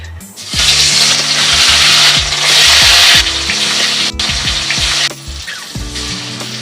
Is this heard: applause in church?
no